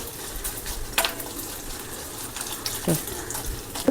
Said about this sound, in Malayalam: എണ്ണ ഒന്ന് മൂക്കട്ടെ അത് തേങ്ങ ഒന്ന് മൂക്കട്ടെ